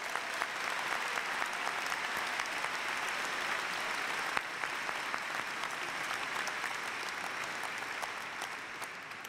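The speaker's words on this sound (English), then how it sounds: "Let's give them a round of applause." Steady, dense applause from a large audience at a university convocation ceremony, sustained and even throughout with a brief swell midway.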